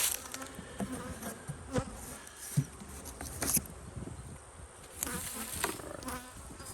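Bees hum around a hive in the apiary, a steady close buzzing with a few sharper passes near the microphone and some light handling noises, with no talking.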